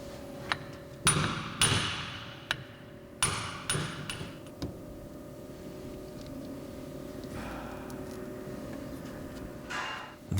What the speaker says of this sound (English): From the opposite side, then drift out the retainer.